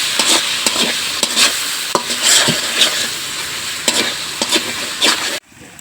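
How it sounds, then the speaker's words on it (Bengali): Shing fish being stir-fried with chilli, coriander and cumin powder and salt in a pan, a loud steady sizzle broken by repeated scraping stirs, ending abruptly. "তো আমি এখন মশলার সাথে মাছগুলোও ভালো করে কষাই নিলাম।"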